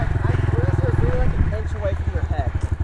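A small pit bike engine runs close by with a steady, throbbing putter and a brief rev in the middle, while people talk over it.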